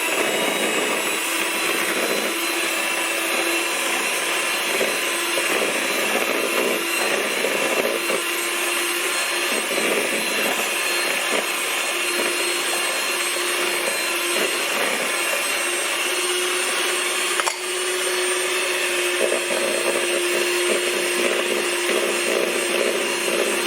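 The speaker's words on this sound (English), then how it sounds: "now we're gonna add our brown sugar, and we're gonna start creaming this" An electric mixer creams butter with brown sugar for a peanut butter coffee cake batter, giving a loud, steady motor whir that runs without a break and stays close throughout, with no voices.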